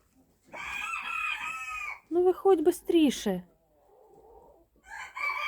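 Chickens cluck close by and a rooster crows, with a person speaking briefly between the calls.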